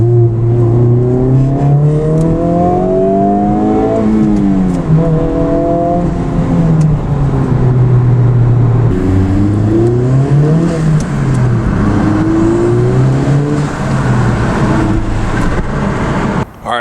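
A 2023 Honda Civic Type R engine driving in plus R mode, loud and close, rising and falling through repeated revs and gear changes with a steady buzzy drone.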